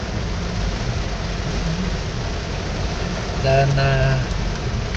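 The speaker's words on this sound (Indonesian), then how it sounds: "Di kompleks tempat kami tinggal, hujannya cukup deras." Heavy rain falls over a residential housing complex as a steady, loud hiss close by, with a brief voice speaking near the end.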